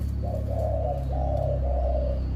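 A dove coos in three soft, low, drawn-out notes, close by, over a steady low background hum.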